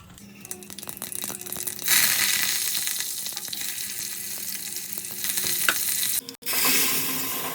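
Garlic and curry leaves tempering in hot oil give a steady, bright sizzle, which swells sharply after a couple of seconds, cuts out briefly near the end, then resumes. Occasional soft stirring is heard, with no talk.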